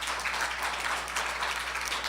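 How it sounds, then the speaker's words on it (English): Steady applause from a conference audience, dense and continuous clapping filling the whole moment with no voices over it. "I think we should give a round of applause for"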